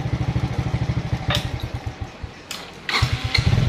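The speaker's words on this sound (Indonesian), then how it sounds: "dan kita coba starter." A motorcycle with a misfiring, sputtering engine putters at a rapid, steady idle, cuts out, then the electric starter whirs briefly before the engine catches and runs again, close by.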